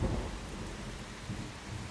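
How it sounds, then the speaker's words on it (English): Heavy rain and rolling thunder in the survival game Once Human, a dense, steady downpour with a deep rumble that is loudest at the start and continues without any voices. "Shame it's raining."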